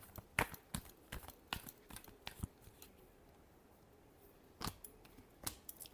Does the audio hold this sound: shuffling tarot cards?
yes